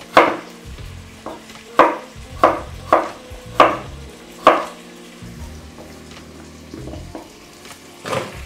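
Sharp knife chops vegetables for minestrone soup on a board in an uneven series, about eight clear hits, close and fairly loud, with a low hum underneath and no talking.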